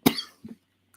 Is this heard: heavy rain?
no